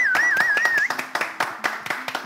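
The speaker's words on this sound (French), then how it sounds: "Est-ce qu'on peut applaudir mon styliste?" A fashion event audience claps for the stylist, with several distinct sharp clap bursts in an uneven rhythm and a brief high whistle-like tone at the start.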